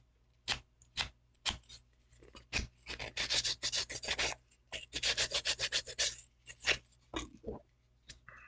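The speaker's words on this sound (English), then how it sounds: "You can take sandpaper, kind of rougher grade, and just kind of wipe it off pretty much." Sandpaper of a rougher grade rasping against a small plastic Nendoroid figure part, in a series of short, close scratchy strokes, first a few separate swipes, then quick runs of rapid rubbing.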